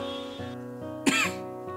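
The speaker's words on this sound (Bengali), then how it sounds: "তোমার তো ভালোই কাশি হয়েছে" A single sharp, throaty cough bursts out midway, close and fairly loud, over a quiet steady electrical hum.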